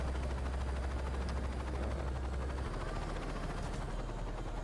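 Helicopter rotor drone from Saints Row 2 on PC, the aircraft smoking and damaged, a steady loud low thrum that runs unbroken through the whole stretch with no voices over it.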